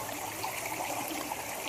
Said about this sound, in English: this little waterfall down here